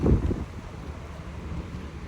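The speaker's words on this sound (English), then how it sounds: "It is really windy, man. I'm worried about the audio." Strong gusts buffet a microphone near the sea, with a loud low-frequency rumble that peaks in the first moment and then settles into a steady roar, no voices present.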